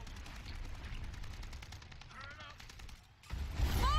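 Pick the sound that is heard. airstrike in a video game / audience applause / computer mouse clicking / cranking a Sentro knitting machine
airstrike in a video game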